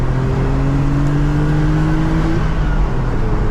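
A 1989 Vauxhall Carlton GSI 3000 24V engine revving, a loud, close, strained drone that holds a high pitch and then drops back down.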